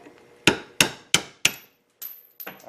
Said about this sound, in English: I now have a bigger chisel, and I'm going to try it again